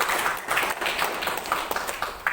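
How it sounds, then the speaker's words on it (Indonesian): A seminar audience claps in a steady, moderately dense round of applause, rhythmic hand claps pulsing roughly every quarter second and fading slightly toward the end. "Kalau dahsyat tepuk tangan."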